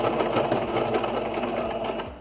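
A domestic sewing machine stitches a dish towel with a rapid, steady mechanical whir and needle clatter, close and continuous before slowing at the end.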